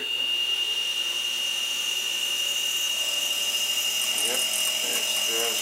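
A lathe insert holder cuts metal with a steady, continuous machining whine and hum, a bright high tone running throughout, with faint brief scraping chatter near the end.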